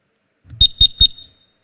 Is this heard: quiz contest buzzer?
yes